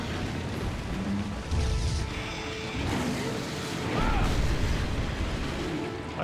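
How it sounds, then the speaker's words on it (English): Explosions in the video game Monster Hunter Freedom Unite merge into a dense, continuous roar of rumbling booms and crashes that swells twice over several seconds. "That's the random explosions."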